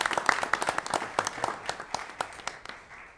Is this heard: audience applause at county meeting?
yes